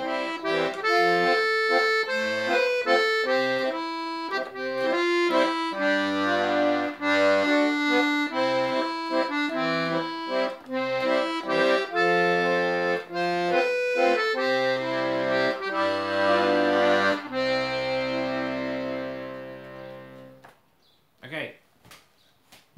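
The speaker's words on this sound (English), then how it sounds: "So you're going to do two notes on the bass and one note on the counter bass." Accordion plays a short scale-style tune over a steady bass pattern of two bass notes and one counter-bass note, sustained and full. The notes run continuously and close to the listener, then stop near the end, followed by brief faint noises.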